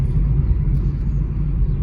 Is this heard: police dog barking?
no